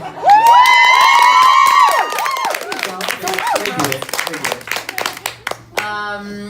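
A VIP audience in New York cheers and shouts loudly, with a high sustained scream at the start, then scattered clapping and chatter that thins out, and voices talking at the close.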